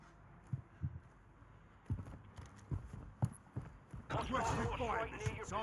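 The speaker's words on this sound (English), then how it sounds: "We hear someone come up the staircase right now." Footsteps climbing a staircase in the video game Warzone 2, a series of spaced thuds under ongoing talk, followed by a louder burst of clattering movement near the end.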